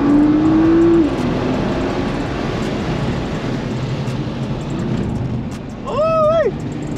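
Procharged Nissan 350Z driving on a track, with a steady engine drone and road rumble, a whining tone that drops off early, and a rising and falling engine sweep near the end.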